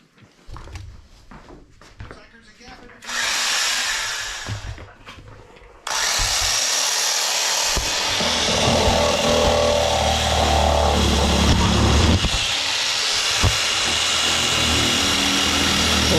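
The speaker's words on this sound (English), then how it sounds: "I was getting ready to use this jigsaw for the first time" A power jigsaw cuts wood for the first time, with a short loud burst of motor noise early on, then a long, close, steady high-pitched buzz of the blade sawing through the board until the end.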